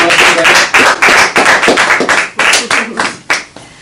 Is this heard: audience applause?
yes